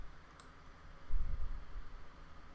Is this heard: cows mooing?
no